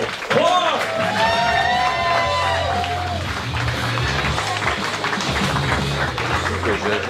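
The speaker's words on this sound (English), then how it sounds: "I'm gonna need y'all to start clapping." A roast battle audience claps, whoops and cheers in a lively, sustained burst, with a host talking loudly over the crowd noise throughout.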